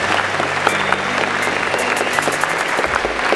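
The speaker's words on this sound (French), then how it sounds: "vous invite à applaudir Kevin Séraphin" An audience at a summer camp event applauds Kevin Séraphin with loud, dense, continuous clapping close by, while a low steady tone runs underneath for most of the burst.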